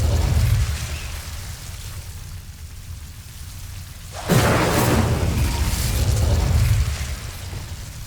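A fire spell cast in Hogwarts Legacy erupts abruptly into a loud rushing whoosh of flame that lingers for a few seconds over a low ambient rumble before fading.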